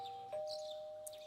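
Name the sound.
doorbell ringing in the video game Persona 4 Golden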